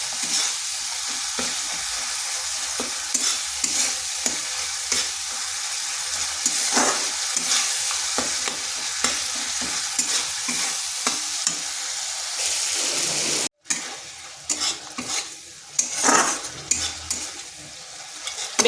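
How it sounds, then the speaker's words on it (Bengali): Ground spices with Kashmiri chili powder fry in a pan with a little water, a continuous sizzle under repeated spoon scrapes and clinks, followed by a brief dropout and louder stirring near the end. "এইভাবে মশলাটা বেশ কিছুক্ষণ কষে নিতে হবে।"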